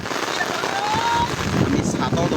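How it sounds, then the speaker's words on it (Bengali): Strong stormy wind and rain beside the swollen Gomti river in Cumilla make a steady, loud rushing roar that buffets the microphone. A voice talks over it. "এত বাতাস বৃষ্টি।"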